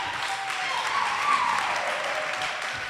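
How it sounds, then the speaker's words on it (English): Applause for the finalists of a comedy competition, a brief, steady burst of crowd clapping at moderate level with a musical tone gliding through it. "Let's hear another round of applause for all our finalists tonight."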